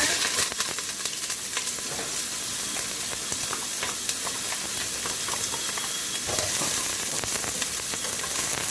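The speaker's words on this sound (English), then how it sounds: "We're going to put the onions on there." Onions frying in a preheated pan for a vegan recipe, a steady, loud, close sizzle and hiss with small crackles and spatters running throughout, heard alone without talk.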